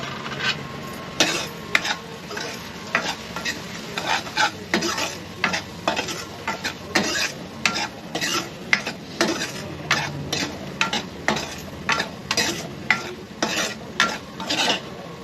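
Spiced food with chili powder and salt fries in a pan while a utensil stirs and scrapes it, in rhythmic repeated strokes over a continuous sizzle, close and fairly loud.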